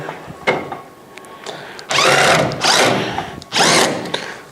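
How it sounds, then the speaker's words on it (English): A power drill snugs down small screws on a Santa Fe Classic dehumidifier during a humidity control replacement, three loud whirring bursts of about a second each with short pauses and light clicks between them. "and screw them down. Now, these are small screws, so they don't need to be tightened too tight."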